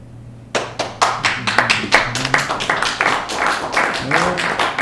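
At a city council plenary meeting, a round of applause breaks out for the administration and volunteers: sharp, distinct hand claps starting suddenly and continuing steadily, close and fairly loud.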